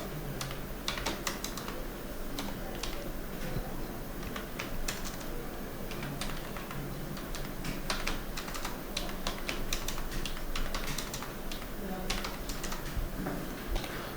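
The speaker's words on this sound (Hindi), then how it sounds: "तो चलिए कुछ फीस टाइप कर देते हैं।" Steady typing on a computer keyboard while entering text into a Word table: a continuous run of close, fast key clicks over a faint room hum, with no voice.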